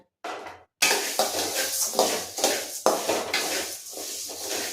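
Rice dry-roasting in a pan for butter chakli, stirred with a metal spoon that scrapes and clinks against the pan in repeated bursts after a brief pause, close and fairly loud.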